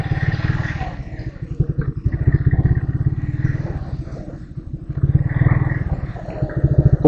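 A motorcycle rides over a pond with a loud, steady, throbbing engine rumble and some rattly clatter. The level rises and falls slightly as it moves.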